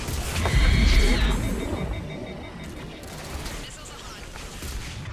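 Gunfire in the video game Mass Effect 3, a dense burst of rapid shots and impacts in the first second and a half, then fading into quieter scattered combat noise and game effects.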